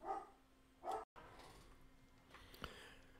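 A pet dog barks twice in short, sharp bursts a little way off indoors, followed by fainter rustling and a soft yip, with no talking.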